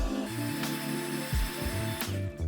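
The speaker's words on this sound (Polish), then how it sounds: "bierzemy opalarkę, może też być suszarka. Włączamy, podgrzewamy sobie." A heat gun is switched on to warm the glue under scooter griptape, giving a loud continuous mechanical whir with shifting low hum and clicks, close by and without talk.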